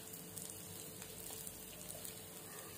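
Sesame oil sizzling on a hot dosa pan gives a steady, close, bright crackling hiss that runs without a break, with no voices over it.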